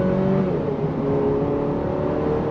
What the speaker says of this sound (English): On throttle, here we go. 8-speed drops down and we're off.